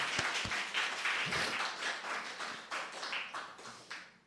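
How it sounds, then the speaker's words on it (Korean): A church congregation breaks into sustained applause during a Sunday service, a soft, steady wash of many hands clapping that carries through to the end. "다시 한번 박수로 환영합니다."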